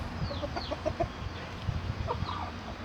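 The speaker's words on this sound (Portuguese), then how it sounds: "Esse é o galo aí, o galo garnizé mestiço." A crossbreed bantam rooster and free-ranging hens cluck in short, irregular bursts, close and fairly clear against a low outdoor background.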